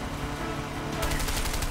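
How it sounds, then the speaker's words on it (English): Continuous rapid gunfire from the video game A Way Out, a dense sustained burst that grows harsher and brighter partway through, with game music and effects underneath. "Stop it! Stop shooting me!"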